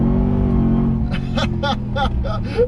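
A RAM TRX pickup truck's engine runs on a snowy canyon road, making a loud, close low drone that holds fairly steady rather than clearly climbing, while a voice breaks in over it in the second half.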